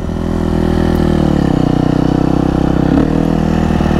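A Husqvarna FC250 dirt bike engine runs at high RPM, giving a loud, steady, buzzing drone with slight fluctuations in pitch while riding, close and continuous throughout.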